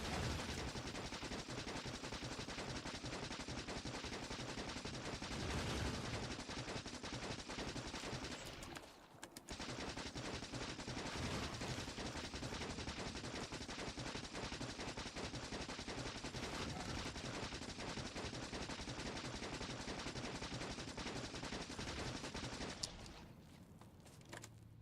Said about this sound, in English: those armor piercing bullets do a really good job.